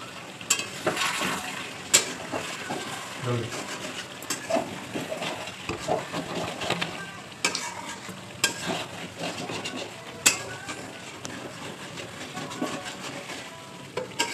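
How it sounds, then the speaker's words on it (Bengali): Rupchanda fish curry with curd being stirred in a pan, a steady run of scraping and clinking strokes over a continuous low sizzle, close and fairly loud throughout. "নাড়াও নাড়াও, ধরে না কিন্তু।"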